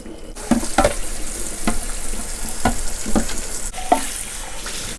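Water draining from a pot of boiled pork legs into a sink, a continuous splashing wash punctuated by several sharp clanks of metal and bones shifting, close and loud.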